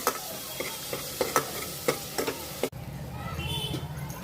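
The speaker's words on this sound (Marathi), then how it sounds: "हा मसाला जो ग्राइंड केलेला आहे तो सगळा तेलात टाकायचा आहे तो छान परतून घ्यायचा आहे तेलामध्ये" Ground masala sizzles in hot oil for vegetable pulao, with a series of scraping, tapping stirs against the pan over a soft frying hiss, then a brief cut to a steadier, louder sizzle; close and moderately loud.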